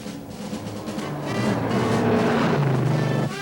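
A 1971 AMC Javelin with a 401 V8 accelerating hard on a test run, its engine note rising in pitch and growing steadily louder over a few seconds, with a steady roar underneath.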